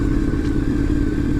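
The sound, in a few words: Honda VFR750 motorcycle engine idling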